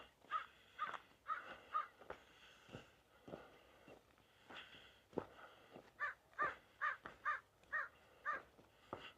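A crow caws repeatedly along a sandy walking path, harsh calls coming in irregular bursts and then a quicker run of caws, fairly close and heard on their own without talk.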